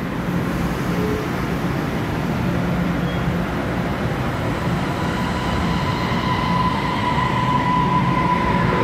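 A silver-green Taiwan Railways EMU900 ten-car local electric train passing on the Yilan line, a loud steady rail roar with rumbling wheels and a thin high whine held throughout, no talk over it.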